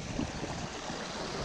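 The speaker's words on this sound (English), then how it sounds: "Wow, waterfall." A waterfall pours in a secluded outdoor spot, making a steady, dense rushing roar with no pauses, close and fairly loud.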